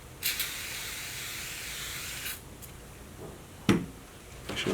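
Solvent cleaner sprayed onto leather during a repair: a close, steady hiss lasting about two seconds, followed by a couple of faint short clicks and a brief soft spritz.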